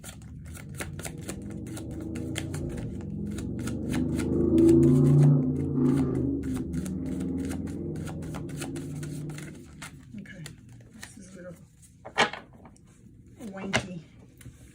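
A deck of tarot cards being shuffled, a soft riffling and rustling that builds in the middle and then trails into a few sharp clicks, while someone talks quietly.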